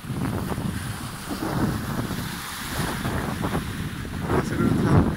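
Sailboat at sea off Finland on a half-wind reach, with a steady roar of wind buffeting the microphone and waves washing and splashing against the hull throughout, loud and close.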